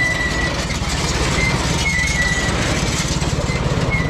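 A steady, low engine idle rumbles continuously with an even pulsing throb, close by, with a faint high tone running faintly above it.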